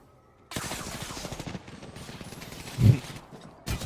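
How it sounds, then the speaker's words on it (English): Rapid automatic gunfire in the battle royale shooter Apex Legends, a dense rattling burst starting after a brief quiet and running steadily for several seconds, with a louder thump near the end and a final shot. "You're shooting each other, guys."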